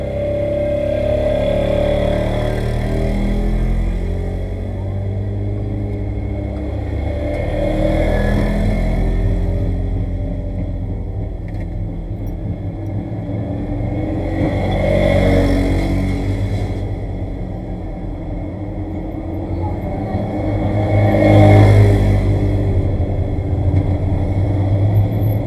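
Race car fitted with a Childress motor and a dual diaphragm clutch, engine rumbling loudly nearby with several slow swells of revving across a steady idle, no talk over it.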